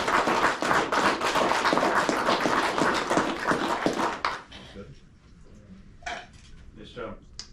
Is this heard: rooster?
no